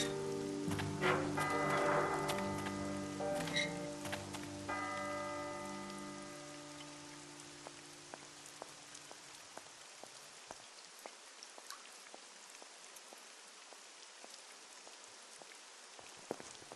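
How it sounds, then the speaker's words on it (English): Rain falls in the video game Syberia, light patter and dripping drops under a sustained musical chord that fades out, leaving sparse drips alone. "I love the rainy sound."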